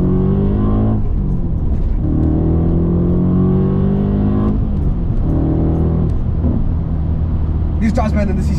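An Audi RS4 B7 sedan with a Stage 2 tune drives along a road, its engine rumbling loudly throughout and rising in pitch as it accelerates several times, nearby and steady with no talk.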